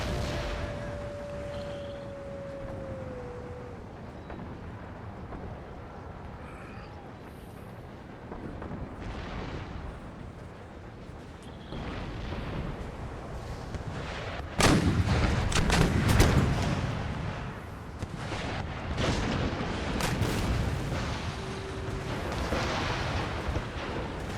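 Cannon fire loaded with canister shot in Total War: Empire, with heavy booming blasts and crackling volleys at mid distance, building into a dense, loud cluster of shots partway through.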